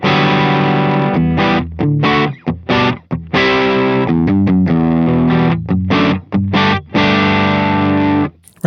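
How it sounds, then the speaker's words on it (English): Electric guitar through a PRS Horsemeat overdrive pedal, first-stage overdrive with the gain being raised, plays bright, chunky riffs with choppy staccato chords and short muted gaps, loud and alone without voices. "Right there, it's basically like a first stage overdrive"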